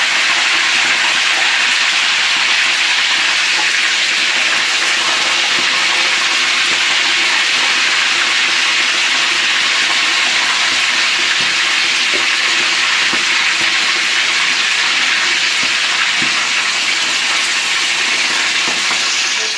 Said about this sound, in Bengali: এখন ভাইজা নিই, তেল গরম করে নিলাম।